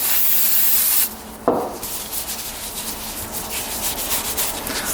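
Grease is rubbed by hand onto a part of a low-compression dirt bike during servicing, a steady close-up rubbing and smearing texture that continues with small rhythmic swells, no voices.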